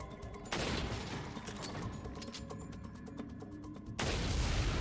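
Gunshots in the video game Resident Evil 4, a dense rapid series of loud shots with rhythmic pulses, framed by heavy booming noise at the start and end.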